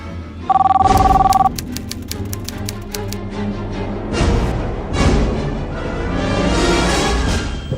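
A telephone bell rings in one short electronic burst, followed by a rush of busy, overlapping noise and voices.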